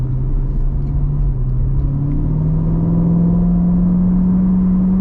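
A C7 Corvette Grand Sport in tour mode accelerates away, its engine note a steady low drone climbing gradually in pitch, loud and close from the cabin with no talking.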